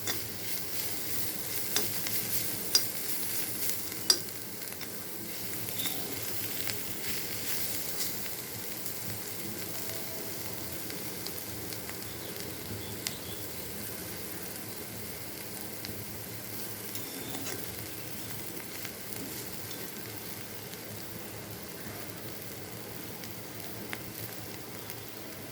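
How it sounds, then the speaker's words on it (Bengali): Bitter gourd stir-fried in a pan, a steady low sizzle of frying running throughout with occasional faint clinks and scrapes of stirring, no talk. "পাঁচ মিনিট মতো নাড়াচাড়া করে এখন আমি নামাই নেব"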